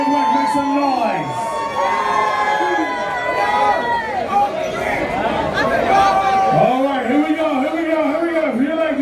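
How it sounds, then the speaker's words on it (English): A party crowd cheers and whoops loudly for a contestant in green and white, with shouts and cries rising and falling over several seconds alongside an amplified voice. "If you like your lady in the green and white, make some noise."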